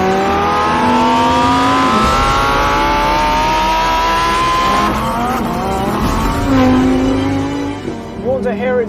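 A Lamborghini Huracán EVO RWD engine revs under load on an open track, its loud tone sweeping up and falling through the gears, with a brief tire squeal and a voice speaking over it.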